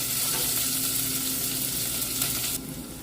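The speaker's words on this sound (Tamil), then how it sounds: "ஒரு பெரிய வெங்காயத்தை நல்லா ஸ்லைஸாக கட் பண்ணி எடுத்துருக்கோம் அதையும் இப்போ இதில் ஆட் பண்ணுவேன் நல்லா வதக்கி விடுவேன்" Sliced onion frying in a pan for a Jaffna-style chickpea and brinjal curry, a continuous close sizzle that drops suddenly quieter near the end, no talking.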